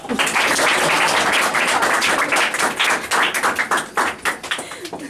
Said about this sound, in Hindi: ताली थोड़ा बजाओ।